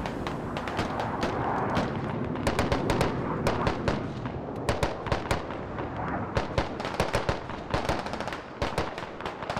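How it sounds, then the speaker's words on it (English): Repeated explosions from a bombing run in the military shooter Squad Ops, mapped as MARS: Prussian Pummel. Dense, loud bursts crack and thud one after another over a constant rumbling roar, with no break for almost ten seconds. "another bombing run"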